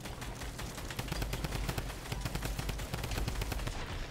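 Rapid bursts of automatic gunfire from enemies in a video game, dense and continuous over several seconds, loud and overlapping with no voices.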